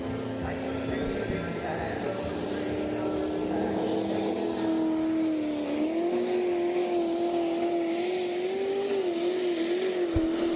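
A V8 Perkins-powered pulling tractor revs hard at a tractor pulling event, its steady high engine tone rising in pitch as it pulls down the track, loud and continuous, with an announcer talking over it.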